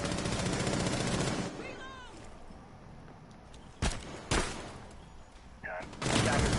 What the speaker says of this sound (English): Let's see if the shotgun hits.